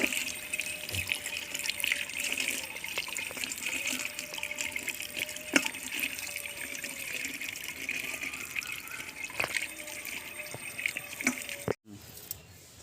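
Goat legs rinsed under running water for a goat trotter recipe, a steady close trickle and splash with intermittent drips and small clatters of handling.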